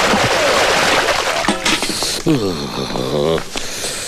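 Cold water splashes and sloshes as someone bathes, a dense rushing spatter up front before voices talk over lighter splashing.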